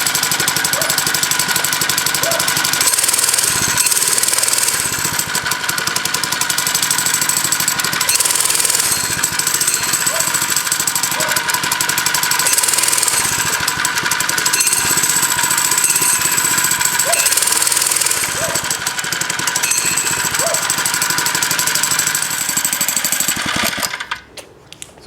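A 4-stroke engine on a bicycle runs steadily with a rapid, loud mechanical clatter and faint periodic jerks from a faulty clutch, before cutting off at the end.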